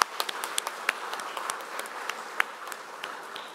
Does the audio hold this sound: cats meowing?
no